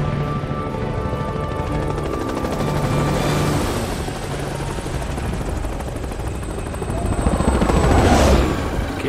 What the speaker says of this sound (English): Drive a car, we can fly a helicopter, right?